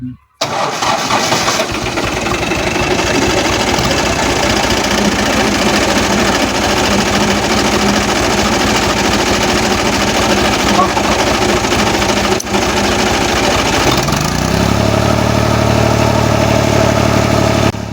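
A village tractor engine cranking and catching, then running at a loud, steady, close chugging idle that settles into a lower tone near the end, with voices talking over it.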